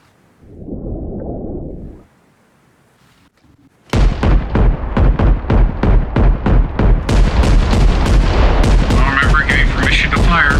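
Gunfire during LAR platoon training starts after a short low rumble: a long, loud sequence of rapid, evenly spaced shots continues steadily to the end.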